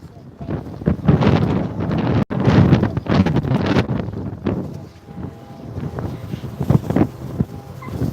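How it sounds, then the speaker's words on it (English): Wind buffets the microphone outdoors, giving loud, irregular low rumbles and gusts throughout, with voices faintly mixed in. "The wind is blowing."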